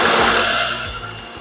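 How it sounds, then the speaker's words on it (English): A blender whirs loudly while blending salsa with cumin, salt and black pepper, then winds down over a second and a half. "Now give a really good blend."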